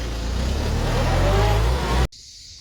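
Kubota MK5000 tractor engine driving in gear, a loud steady diesel drone with slight rising strain that cuts off abruptly near the end.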